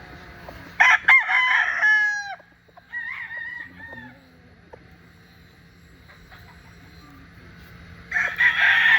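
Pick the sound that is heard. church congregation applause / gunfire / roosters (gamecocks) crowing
roosters (gamecocks) crowing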